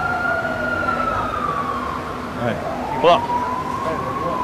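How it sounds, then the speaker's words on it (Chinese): An ambulance siren wails along a busy street in Mong Kok, Hong Kong, its rising and falling tone clearly audible over the crowd noise, with a brief spoken word partway through. "啲救护车即刻嘘一声，即刻冲嚟啊"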